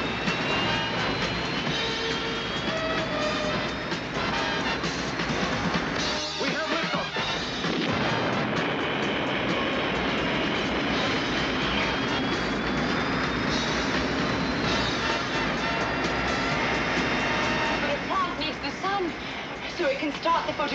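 A spacecraft lifts off in the sci-fi series Space: 1999, a heavy, continuous rumbling engine roar that fills the scene while voices talk over it.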